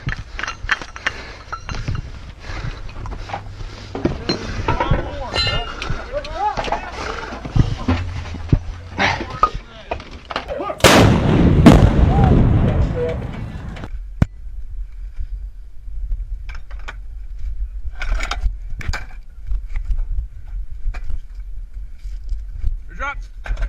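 An M777 155mm towed howitzer fires a single round, a loud blast that rolls off into a rumbling decay, with crew voices and metallic clanks of handling before and after.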